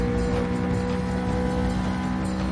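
A Honda S600 classic Japanese sports car engine runs steadily at high revs, a dense, continuous close-up drone with no break or voices.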